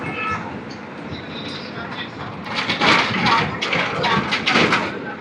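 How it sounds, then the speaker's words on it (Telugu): A goods train rolling along a railway track beside the highway near Ungutur, heard from a bus, with a rumble that swells midway and rhythmic clatter from the wagons over steady road noise. "అనుకున్నట్టే ట్రైన్ అయితే వచ్చింది,"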